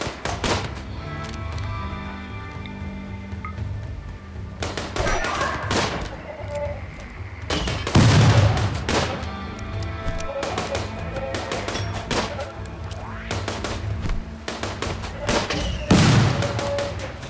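A firefight in the colony sim Rimworld, with repeated gunshots and heavier impact thuds scattered across a noisy battle bed, several loud bursts standing out at intervals.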